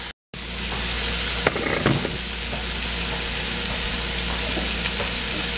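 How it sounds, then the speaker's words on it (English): Mushrooms sauté in a hot pan while making pork chops with mushroom gravy, giving a steady, close, dense sizzle with a few brief clinks and stirring scrapes and no talking. "Give the mushroom a chance to saute and release its juices."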